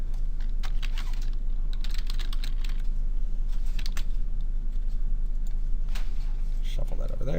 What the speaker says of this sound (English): It might be easier if I type it up here because I'm faster at typing than writing.